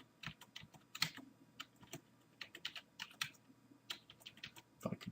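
Quiet, irregular typing on a computer keyboard in an office, keystrokes clicking in short bursts and single taps, close and faint with no talking.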